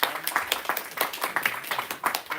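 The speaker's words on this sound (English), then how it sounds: "Round of applause, Maddie." A short round of applause from a small audience at a student JCR meeting, with quick uneven claps from a modest group, fairly close and brief.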